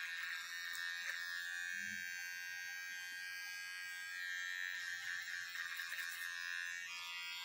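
Electric trimmer buzzing close by while trimming a beard, a continuous whirring hum that holds steady through the whole stretch with slight changes as it moves, no talk.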